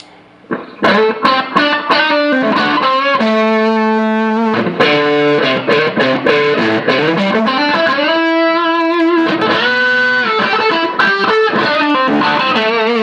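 An electric guitar through an Amptweaker Fat Rock Drive distortion pedal plays loud chords and sustained notes with thick distortion, strummed rhythmically and ringing out between changes.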